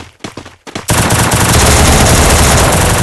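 Automatic gunfire in the Free Fire video game, a few sharp shots followed by a loud, sustained burst of rapid fire up close.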